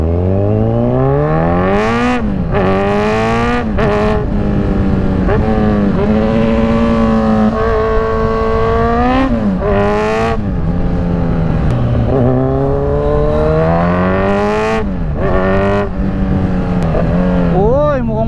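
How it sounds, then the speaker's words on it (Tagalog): Motor tricycles in the Philippines drone past nearby, their engines rising and falling in repeated revving sweeps, with people talking over the traffic noise. "Uy, ganyan yung mga tricycle dito."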